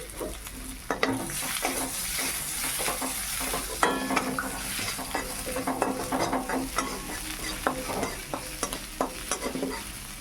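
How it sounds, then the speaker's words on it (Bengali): Chopped garlic and ginger fry in oil in a kadai while being stirred, a steady close sizzle with frequent scraping and clinking strokes of the spatula, no talk. "আদা রসুনটা ভাজা হয়ে গেছে"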